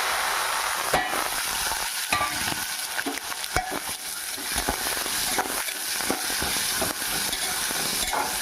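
Tomato pieces and curry leaves frying in hot oil for a spicy mushroom masala curry, with a steady, busy sizzle and repeated sharp scrapes and clacks of stirring close by.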